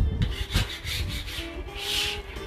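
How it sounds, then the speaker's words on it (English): A metal scraper is dragged across a Blackstone griddle to clear residue, making several close, rough rasping strokes in quick uneven rhythm. "I got the scraper here, I just scrape it off."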